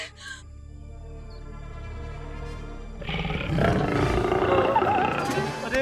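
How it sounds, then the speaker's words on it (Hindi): A tiger roars nearby in a wild setting, a deep, loud growling roar that swells and intensifies in the second half, with faint bird chirps early on. "बाघ की ध्वनि तो तेज होती जा रही है।"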